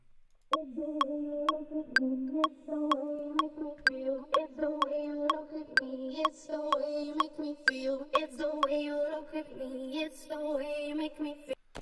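An edited, processed vocal line sings over a steady, sharp clicking tech house beat, the voice continuous and fairly prominent throughout.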